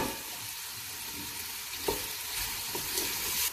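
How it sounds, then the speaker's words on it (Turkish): Onion and garlic sautéing with meat in oil in a pan, a steady close sizzle with occasional stirring scrapes, no talk. "Soğan, sarımsağımızı ilave ediyoruz. Bunlarla birlikte biraz kavuracağız."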